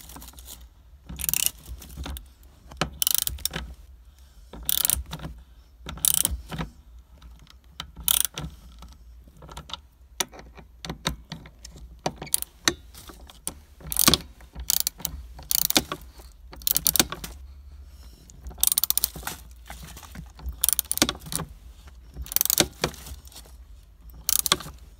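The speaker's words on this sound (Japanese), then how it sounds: "締めだったら、それ以上にラチェットだったらもっと回りますね。" A ratchet wrench clicks in rapid bursts as a part is tightened during installation, its sharp metallic ratcheting repeating in quick close-up runs with brief pauses between strokes.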